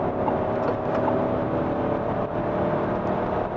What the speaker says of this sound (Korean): 고속도로에 진입을 하면서 급하게 가속을 했는데, 가솔린 엔진다운 그런 부드러운 가속감을 보여줍니다.